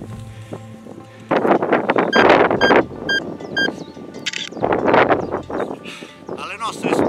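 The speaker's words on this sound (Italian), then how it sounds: "c'è molto vento in vetta" Strong wind gusts buffet the microphone on a mountain summit near Serra di Calvello during a bike tour toward Monte Calvelluzzo, loud and rough throughout, with a voice talking in places.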